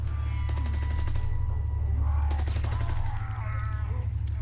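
Bursts of MP40 submachine gun fire in Call of Duty WW2 Zombies, rapid repeated shots in two short volleys over a steady low game drone, with no talking.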